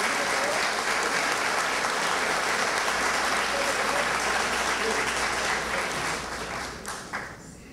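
Sustained strong applause from the audience at a solemn municipal session in Miraflores marking the independence anniversary, steady and full for most of its length, then tapering off near the end.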